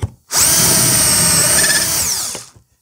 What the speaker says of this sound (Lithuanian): Perstačiu į kitą pusę šabloną ir vėl gręžiu į kraštinės